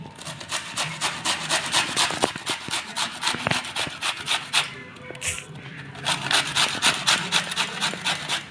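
Cut, washed cauliflower florets are rubbed by hand, giving a steady series of rhythmic, close scraping strokes with a brief pause partway through.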